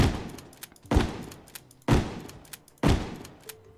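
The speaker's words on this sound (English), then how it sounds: "And the shotgun, oh, it's not rapid fire" A shotgun in Terraria fires four evenly spaced, punchy blasts about a second apart, each decaying before the next, with no rapid fire between them.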